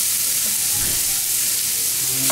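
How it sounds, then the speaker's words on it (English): Hamburger meat cooks with onions and peppers in a pan, producing a loud, constant frying hiss with faint scraping stir sounds near the end. "to grill up about a half a pound of hamburger meat with this dish."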